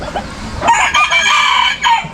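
A rooster crows loudly and close by among a flock of chickens, one drawn-out call following faint clucking, with the crow fading as the clip ends.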